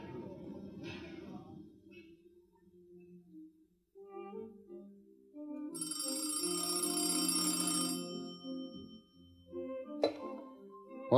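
An old telephone bell rings in a sustained, loud burst over a few seconds, set against quieter orchestral music before and after it.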